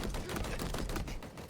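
Rapid gunfire in Halo Infinite, a dense stream of close, loud shots firing continuously with no pauses for the whole short burst.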